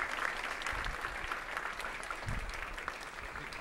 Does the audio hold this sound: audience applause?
yes